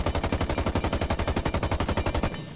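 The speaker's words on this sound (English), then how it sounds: "I'm trying so hard to control the recoil and the gun is still jumping" Thunderbird gun in Rainbow Six Siege fires a long, steady fully automatic stream of close, loud shots with a fast even rhythm, cutting off just before the end.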